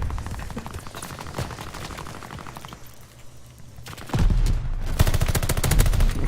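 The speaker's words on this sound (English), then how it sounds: "They're sending mortar shells." Heavy gunfire and mortar explosions in the Call of Duty Vanguard video game, rapid bursts of shots that pause briefly and then resume louder with deep booming impacts.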